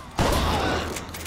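A single pump-action shotgun blast in BioShock Infinite, a sudden loud boom that decays over about a second.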